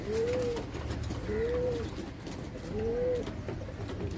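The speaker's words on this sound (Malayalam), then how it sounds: "മെയിലാണ് രണ്ടും മെയിൽ പ്രാവുകളാണ്" Two male pigeons cooing close by, three drawn-out, rising-and-falling coos spaced evenly apart, with a soft background murmur and no talk.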